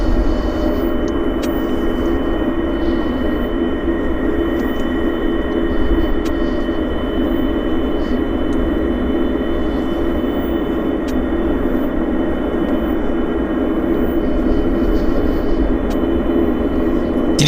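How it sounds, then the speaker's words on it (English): A hovercraft passing near Vancouver airport, heard as a steady, loud, droning engine and fan roar that holds unbroken and even throughout, with no voices over it. "That's a hovercraft right there, guys."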